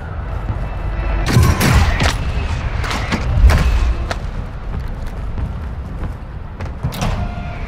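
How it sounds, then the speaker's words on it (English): Mortar strike explosions in Call of Duty Warzone 2, several loud booming impacts landing in irregular succession over steady background rumble, with no talking. "Mortar strike inbound."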